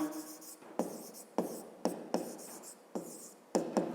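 Someone writes out a math solution by hand, pen or chalk scratching in short strokes with sharp taps at the start of each, quiet and close, with no talking.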